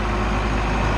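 A roughly 100-horsepower tractor fitted with a front end loader idles steadily close by, a deep, even diesel rumble with no break across the second.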